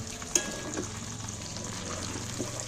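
Potatoes fry in the oil left from cooking chicken, a steady soft sizzle running throughout with a brief sharp crackle near the start and light stirring noises.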